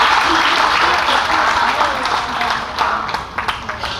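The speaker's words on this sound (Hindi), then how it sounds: "तालियां जरा जोरदार बजाइए" An audience at a Hindi poetry recital applauding after a new ghazal, a full burst of clapping that thins into scattered individual claps toward the end.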